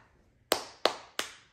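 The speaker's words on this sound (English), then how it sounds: "Give yourself a hand clap." Three sharp hand claps spaced evenly about a third of a second apart, close and clear against a quiet room, praising a toddler playing with a Montessori learning toy.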